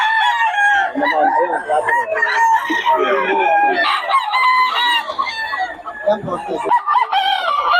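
A Sweater Hennie gamefowl rooster crows close by among clucking fowl, its calls repeating in uneven bursts while people talk over it.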